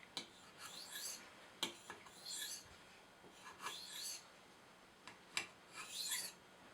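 Kitchen knife drawn over a slick polishing stone in featherweight passes at a raised angle to clear the burr; soft, airy rasping strokes come in short bursts about once a second, close and quiet, with no talking.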